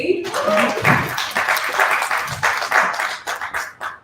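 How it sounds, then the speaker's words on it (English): Short burst of audience clapping at a summit breakfast event, moderately loud and fading after about three seconds, with voices mixed in. "We're going to round of applause for SAP."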